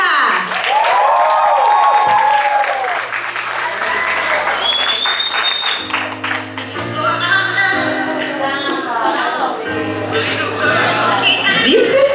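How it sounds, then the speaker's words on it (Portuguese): A hall audience breaks into sustained applause welcoming the speaker at a health and entrepreneurship congress in Sergipe, with loud clapping and cheering mixed with music and voices throughout. "eu quero que vocês recebam com muitas palmas André Guerra!"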